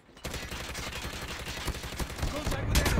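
Rapid gunfire in Call of Duty Mobile sounds as a dense burst of repeated sharp shots that runs without a break and grows louder toward the end, close and loud with no voices.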